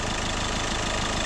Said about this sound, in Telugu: పర్ఫెక్ట్గా ఇంజన్ బీటింగ్ అనేది ఉందండి.